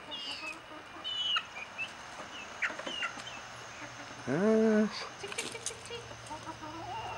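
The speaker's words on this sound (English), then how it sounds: "Here in the backyard with backyard chickens." Five-week-old Americana chickens in a backyard, with soft intermittent clucks and chirps and one louder squawk near the middle, while a person talks close by throughout.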